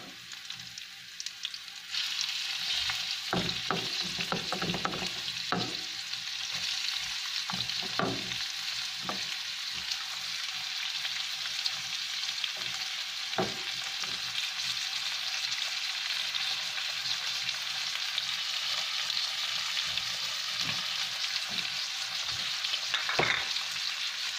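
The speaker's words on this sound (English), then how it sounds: "and now we're going to add the pork" Pork sizzles steadily in a hot pan for a dish with cauliflower, broccoli and mushrooms, a loud, continuous close frying hiss broken by scattered crackles and pops, with no voices.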